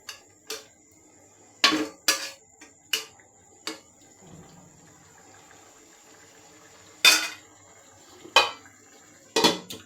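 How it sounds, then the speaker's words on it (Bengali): Metal lid set back onto a cooking pot of boiling water with fried fish: a series of sharp clanks and clatters spaced across the clip, close and clear over a quiet background. "ঢাকনাটা আবার চাপা দিয়ে দিছি"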